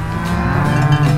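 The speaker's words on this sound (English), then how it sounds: "Brown Swiss bull" A Brown Swiss bull toy sounds a single long, deep moo, loud and close, sustained with a rich harmonic drone and no other sounds.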